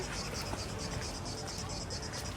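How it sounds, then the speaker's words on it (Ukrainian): Steady high-pitched cicadas pulse in a continuous chorus with a faint low rumble beneath, on Sveti Stefan island, Montenegro. "під звуки цикад."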